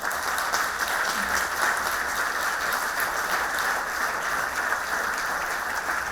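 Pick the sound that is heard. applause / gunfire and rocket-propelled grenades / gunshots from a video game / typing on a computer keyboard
applause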